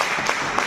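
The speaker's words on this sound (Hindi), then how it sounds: "जोरदार ताली होनी चाहिए।" Dense applause from an audience at a college business communication class presentation, a steady wash of many hands clapping close by with a couple of sharper claps standing out through the short burst.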